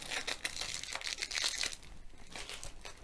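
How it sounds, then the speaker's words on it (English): A sealed plastic packaging bag for a diamond painting kit is cut with scissors and pulled open, giving close, continuous crinkling and rustling with short tearing bursts. "So I'll just cut the bag. Open it up."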